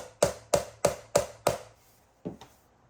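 Five evenly spaced sharp taps knock a slightly raised fret on a Korean-made G&L Legacy Tribute guitar, followed by two softer taps after a pause, close and crisp in a quiet room.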